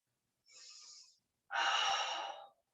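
Two audible breaths during a yoga session: a short, airy inhale followed after a pause by a longer, fuller and louder breath, both close and alone.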